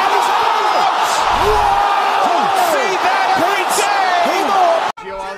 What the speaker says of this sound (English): picks him up and slams him up